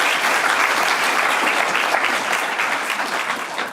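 Auditorium audience applauds at a history awards evening, a dense, loud burst of clapping that tapers slightly toward the end.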